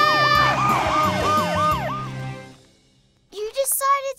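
A cartoon emergency vehicle siren wails in rapid rising-and-falling sweeps, loud and close, over a bouncy musical backing, then cuts off before a cartoon character's voice briefly speaks.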